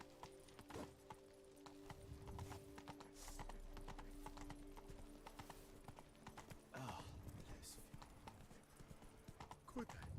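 In The Witcher 3: Blood and Wine, the horse Roach trots with a steady clip-clop of hooves, close and rhythmic, with a snort, under a man's speech and faint background music.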